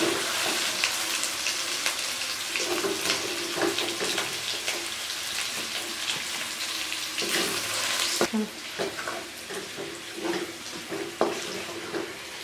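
Marinated chicken sizzles and crackles in a pan of fried onions, a continuous bright frying hiss with a sharper burst partway through. Soft speech is heard faintly over it.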